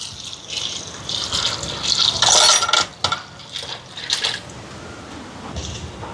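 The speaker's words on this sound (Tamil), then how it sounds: "இதில் வந்து தண்ணி சேர்ப்போம்." Water gushes and splashes into a bowl of washed lentils in uneven bursts, loudest midway, then trails off into a few smaller pours and drips, close by.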